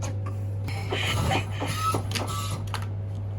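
A photo booth printer runs steadily, whirring and feeding out prints with several mechanical bursts over a constant low hum, heard fairly close and on its own.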